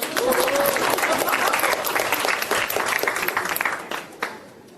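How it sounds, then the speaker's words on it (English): A crowd at a book launch claps for the MC Isha, a sustained burst of applause that holds strong and then tapers off toward the end, with a final scattered clap. "Let's all clap for Isha."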